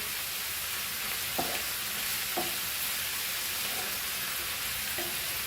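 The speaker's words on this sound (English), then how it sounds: "And just cook this for 5 minutes on high flame." Goan fried rice cooks on a high flame, giving a dense continuous sizzle with a few soft spoon scrapes spaced out through it.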